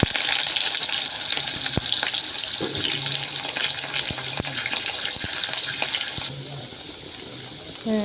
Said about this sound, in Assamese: এতিয়া মই আলু দি দিম ইয়াত, আলুটো ভাজি ল'ম